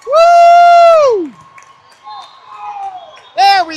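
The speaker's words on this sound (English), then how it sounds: "Parents cheering loudly beyond just me" Parents in a gym crowd cheer and whoop loudly at a youth volleyball match, a long high shout up front, then scattered voices, and a second burst of cheering near the end.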